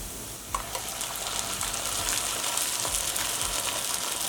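Ground tomato paste hits hot fried onions in a pan, setting off a steady, close sizzle with a soft splat at the start and light stirring scrapes throughout.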